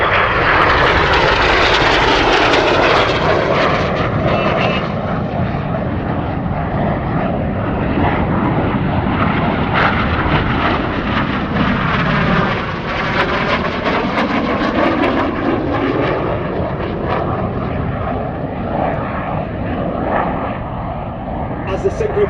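Red Arrows jets roar loudly and continuously at an airshow as they fly a barrel roll, with the sound swelling and fading as they pass. A commentator speaks over the jet noise.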